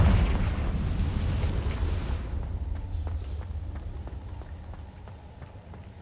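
A Confringo fire spell explodes in Hogwarts Legacy, a loud, dense burst that fills the first two seconds and then thins into a crackling, rain-like patter of debris that fades out.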